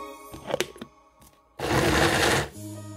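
A blender grinds kimchi seasoning with a cup of vegetable stock added, a loud dense whirring burst lasting under a second after some softer clattering and handling noises.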